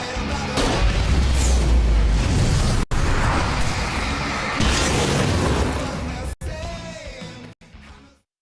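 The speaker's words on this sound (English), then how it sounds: "I can set off more of the fireworks from here and help you out!" Fireworks exploding in the video game Alan Wake Remastered, heavy booms and bursts with rumbling low end, loud and close, mixed with yelling and game sounds, fading out at the end.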